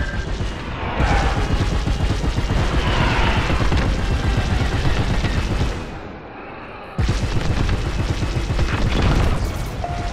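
Heavy video game gunfire and explosions in a fight around a comsat: a dense, continuous barrage of booms and rapid shots that drops off briefly near the middle, then resumes just as loud.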